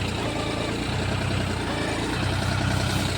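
Close and continuous, the low throbbing drone of a tractor bogged down in a wet paddy field during rice harvest, its engine labouring with slight swells in loudness and no voices.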